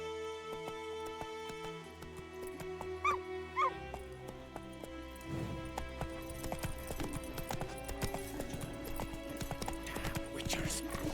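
Roach the horse trotting in The Witcher 3 video game, hooves clip-clopping in a steady rhythm among layered game music and ambience, with a dog barking briefly and a faint whinny nearby.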